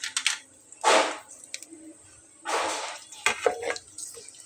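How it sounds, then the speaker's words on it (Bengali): Potato chips dropped into hot oil in a home kitchen, bursting into loud hissing, bubbling sizzles in two or three surges with quieter crackle between. "এখন আমি এই গরম তেলটার ভেতরে আমার ছোট্ট ছেলেটার জন্য কয়েকটা চিপস ভেজে নেব"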